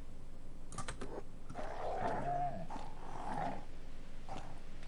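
A mountain dog growls and snarls while fighting in the video game Kenshi, with a rough, low rumbling growl swelling in bursts over a steady background of game ambience, fairly close and loud throughout.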